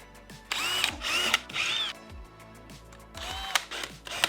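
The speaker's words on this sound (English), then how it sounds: "I'm totally guessing what drill bit size to use" Power drill boring holes in a garage wall to hang shelves, several short whirring bursts with pauses between, close and moderately loud.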